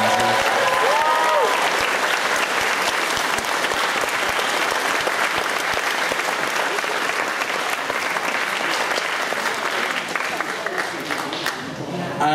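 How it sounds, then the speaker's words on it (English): Sustained applause fills a convention closing ceremony, a dense steady wash of clapping from a large audience, with a brief whistle or cheer near the start and the clapping carrying on loud throughout. "So please give a big round of applause to all the event organisers."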